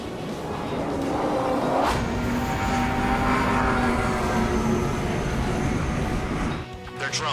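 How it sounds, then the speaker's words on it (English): A jet aircraft in the Ace Combat 7 flight game approaches at high speed, a loud steady engine roar with rising whine tones lasting several seconds before cutting off abruptly near the end. "Aircraft approaching at high speed"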